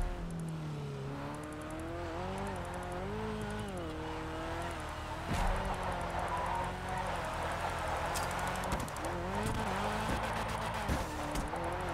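Car drifting in a GTA drift race video game, engine revving with rising and falling pitch and tire squeal throughout, loud and continuous with sharper bursts in the second half.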